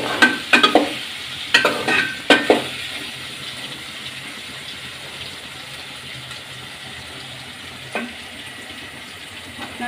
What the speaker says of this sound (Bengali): এদিকে পটল ভাজতেছি